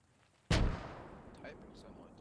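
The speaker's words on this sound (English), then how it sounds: "Oh, it looks like mortars have begun." A mortar round explodes in the World War II shooter Post Scriptum: one sharp, heavy boom that hits suddenly and then rumbles away into a long, fading tail.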